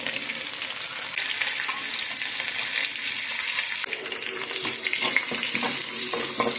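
Chopped green chillies and curry leaves with mustard seeds and urad dal sizzle and fry in hot oil, a bright steady crackle stirred now and then, with no voices.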